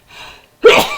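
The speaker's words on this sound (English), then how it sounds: "Excuse the sneeze." A single loud, close sneeze bursts out after a softer indrawn breath, sharp onset then a trailing exhale, alone with no talk.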